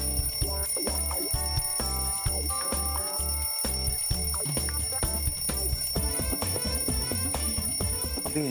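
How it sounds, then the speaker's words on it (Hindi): An alarm clock rings with a steady, insistent electronic pattern that repeats throughout, mixed under a dramatic music score. "तो अलार्म की घंटी से भी कुछ फर्क नहीं पड़ रहा।"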